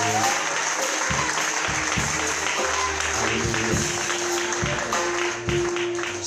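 A church congregation claps and cheers for the Lord in a dense, sustained wave of applause that fills the room from start to finish, with voices mixed in.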